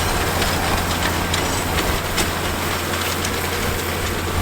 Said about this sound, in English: Cooper's running a New Holland baler right now.